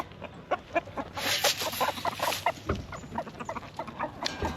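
A small young backyard chicken clucks in a run of short, close calls, some overlapping and rising in bursts, with no talk over them.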